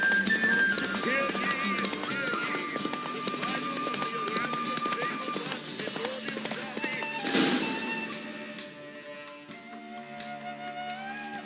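Roach, Geralt's horse in The Witcher 3, gallops with rhythmic clip-clop hoofbeats under game music and someone talking, the hooves slowing toward the end.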